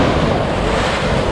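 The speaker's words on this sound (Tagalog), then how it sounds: "malalakas talaga yung alon, saka high tide" Strong sea waves at high tide on a seaside shore, a loud continuous roar of surf with heavy wind buffeting the microphone and no voices.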